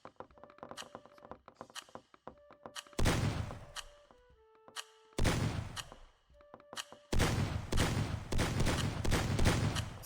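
Gunfire blasts in the video game Meccha Chameleon: heavy bursts of shots roar over a few seconds, mixed with lighter taps and in-game tones, loud and close with no talking.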